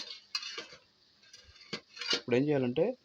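A spoon stirs food in a cooking pan, making a few brief scraping clinks against the metal, with someone speaking over them near the end.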